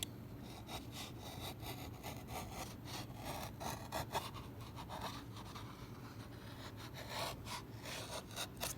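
A carving tool shaves a soft mahogany back strut for a guitar, giving a steady scraping, rasping texture with repeated short strokes, close and moderately quiet, with no talking.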